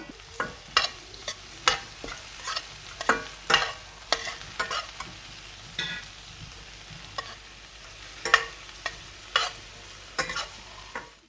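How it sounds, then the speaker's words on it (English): Tomatoes and onions fry in a pan with a steady low sizzle, punctuated by frequent sharp spatula clacks and scrapes as the mix is stirred at an irregular pace, close and clear with no talking. "So onions cook అయిపోయింది. So it's time to add the tomatoes"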